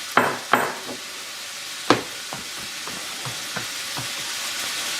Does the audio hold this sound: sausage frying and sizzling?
yes